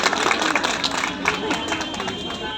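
A crowd applauds to welcome a guest at the inauguration of a BJP worker's public service centre office. The clapping is dense, steady and fairly loud throughout.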